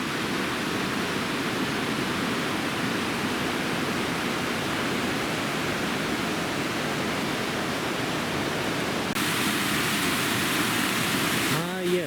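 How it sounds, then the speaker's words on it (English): A waterfall on George Creek produces a constant, even rush of falling water that fills the whole stretch, with a brief rustle and bump near the end. "Yes, the waterfall."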